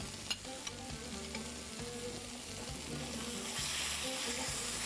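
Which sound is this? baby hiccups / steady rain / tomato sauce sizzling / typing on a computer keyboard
tomato sauce sizzling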